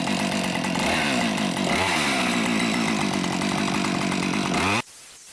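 A chainsaw engine runs loud and steady at close range for several seconds, with a brief rise in pitch, then cuts off abruptly.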